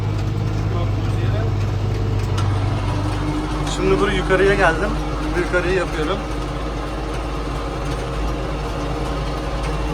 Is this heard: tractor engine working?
yes